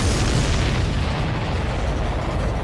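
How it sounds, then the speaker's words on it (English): A supply ship blows up in the video game Ace Combat 7, a loud sustained explosive roar and rumble filling the mix for a few seconds, with no talk over it. "Did you see that explosion? Looks like that's one of them down."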